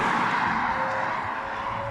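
A car exhaust roars on a road in Maltepe at evening, a steady loud engine and exhaust drone with tire noise that holds continuously throughout without a break.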